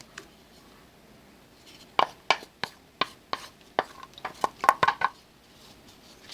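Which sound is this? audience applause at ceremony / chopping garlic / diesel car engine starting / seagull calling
chopping garlic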